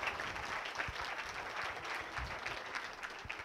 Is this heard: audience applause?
yes